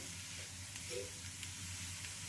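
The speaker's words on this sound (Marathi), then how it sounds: "अशाच प्रकारे आपण सगळे पराठे भाजून घेऊया" Methi and jowar flour paratha crisping on a hot pan gives a soft, steady sizzle with faint crackles, quiet and continuous throughout with no voices.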